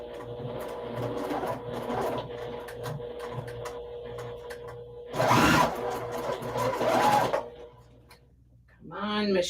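Sewing machine running in steady rhythmic bursts of stitching, a close mechanical whir and ticking, with a louder, harsher stretch midway and a person speaking near the end.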